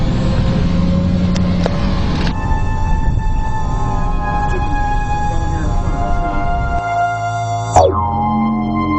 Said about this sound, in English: the same car's following us